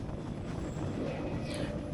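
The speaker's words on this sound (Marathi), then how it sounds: "ट्रेन प्लॅटफॉर्मवर येते" A Konkan Railway train pulls into a station platform, a steady low rumble and clatter of railcars filling the whole stretch at fairly close range, with crowd murmur from the platform mixed in.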